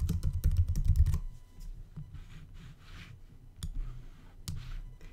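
Fingers typing on a computer keyboard, a quick burst of close, loud keystrokes followed by softer, sparser clicks and a few louder taps.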